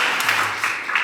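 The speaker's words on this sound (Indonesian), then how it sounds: "Tepuk tangan dulu kehadiran Pak Faiz." A seated audience at an Indonesian talk event claps together, a brief burst of dense, fairly loud applause with a few stronger swells, no voices on top.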